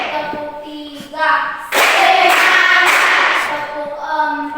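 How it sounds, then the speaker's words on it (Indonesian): A class of students claps along in an ice-breaking clap pattern, short counted bursts of claps alternating with voices, then a louder sustained stretch of group clapping before chanting resumes. "Tepuk 1, tepuk 2, tepuk 3,"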